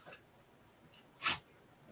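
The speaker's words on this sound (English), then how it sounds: "Poor dog." A female dog wearing a protective cone breathes and whimpers indoors, mostly quiet with faint breaths and one short, sharp huffing burst near the end.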